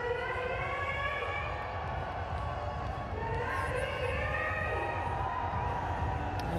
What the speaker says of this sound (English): there is a good crowd in